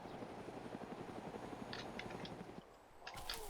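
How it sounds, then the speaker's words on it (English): A helicopter passes overhead in the video game DayZ, its rotor chopping in a fast steady thump under a broad engine roar, loud and continuous, with a few faint sharp clicks near the end. "that helicopter overhead's gonna be a little bit of a problem"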